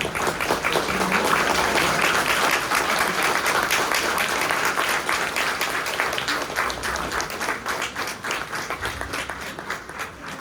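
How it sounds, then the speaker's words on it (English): Sustained audience applause at a KPFWA gathering on Operation Kagar, welcoming a tribal activist from Bastar: dense, steady clapping from a large crowd that holds for about ten seconds before thinning slightly at the end. "this round of applause means that there is actually no need for a very formal introduction"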